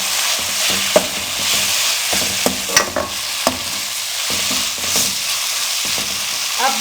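Sauces are stirred into chicken macaroni in a pan with a spoon, giving repeated scraping knocks over a continuous soft sizzle, close and fairly loud, with no talking.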